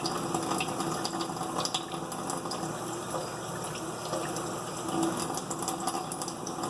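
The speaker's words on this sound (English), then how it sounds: "So I'm going to get it washed up real good." Running water from a tap pours steadily over a freshly gathered wild plant being washed, a continuous close splashing hiss with small fluctuations and no talk.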